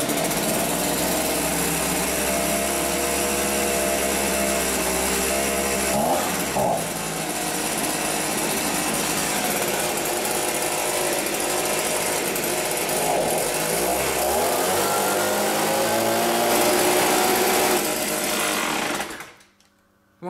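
A Stiga SBL 327 V petrol leaf blower engine runs loud and close with a buzzing, high-pitched two-stroke drone, shifting pitch as the throttle changes midway, then cuts off abruptly near the end.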